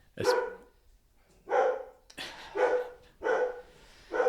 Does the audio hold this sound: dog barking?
yes